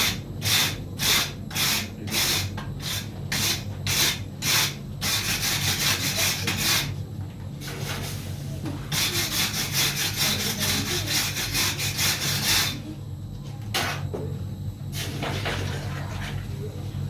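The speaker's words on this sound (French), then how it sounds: "petit coup de brosse" Stiff brush scrubbing a freshly forged metal piece at a blacksmith's workshop, starting with a run of quick, regular strokes, then longer rasping passes and a few final scrapes, close and clear.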